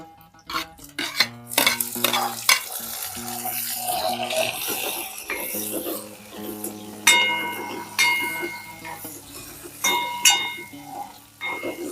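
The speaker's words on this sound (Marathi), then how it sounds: "कांदा लालसर होईपर्यंत परतून घ्यायचा आहे." Onion is stirred and sautéed in a pan for poha, with a spoon scraping and clinking against the metal in irregular strokes over a soft sizzle, close by.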